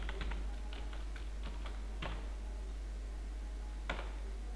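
Keys tapped on a computer keyboard while Java code is typed in BlueJ, in short irregular bursts of close clicks over a steady low hum, with a few sharper isolated keystrokes.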